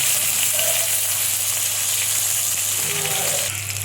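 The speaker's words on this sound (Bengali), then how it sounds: "এবার আমি আলুটা দিলাম দেখো আলুটা ভাজা হলে" Potatoes frying in hot oil while a Bengali pabda fish curry with eggplant is cooked, a loud, continuous sizzle with a few brief tonal clinks as the pan is stirred.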